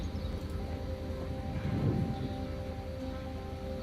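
Train station ambience in the video game Attentat 1942, set at Prague's Vršovice station: a steady low rumble and hum of trains and bustle, fairly faint and continuous, with no talk.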